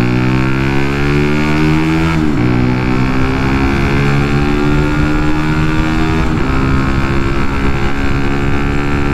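A Benelli TNT 135 motorcycle engine runs steadily nearby with a loud, even buzzing drone, dipping briefly twice before settling back to the same pitch.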